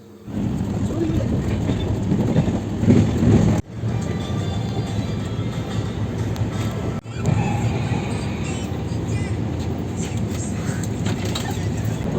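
Continuous rumble and rattle of a moving passenger train from inside the carriage, steady and loud, with brief dropouts and faint voices in the background.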